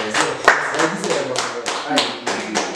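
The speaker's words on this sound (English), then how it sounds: "Just a round of applause for this." A studio audience gives a short round of applause, with scattered claps and taps at close range. The clapping is uneven and continues for a few seconds.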